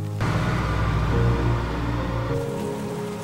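Rain falls in Japan's rainy season, heard as a dense steady wash with a low rumble and droning tones beneath, continuous and fairly loud with no voices.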